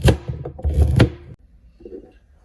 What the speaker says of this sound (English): For the carrots, I'm just going to make them in rounds like this.